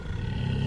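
A monstrous roar from a fantastic cat-headed creature called the Gazook, or the Thunderer, with a deep, sustained growl that swells steadily and stays loud and close throughout, far more massive than a lion's.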